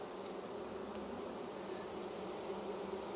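Honey bees buzz at an opened hive during hive equalizing before winter, giving a steady, close, continuous drone that never lets up.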